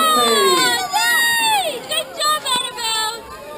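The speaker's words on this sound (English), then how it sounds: "Give her a big cheer." A crowd cheers and shouts at the finish of the 2017 asics Victor Harbor Mini Distance Triathlon. Loud, close voices rise and fall in pitch in overlapping bursts, with high children's voices among them.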